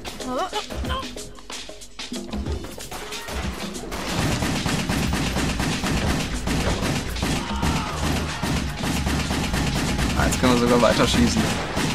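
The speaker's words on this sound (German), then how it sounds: "jetzt gehen die Pistolen aber" Rapid pistol fire in the video game Wet crackles in dense bursts over loud action noise, with a brief lull early on before the shooting grows heavier and continues steadily to the end.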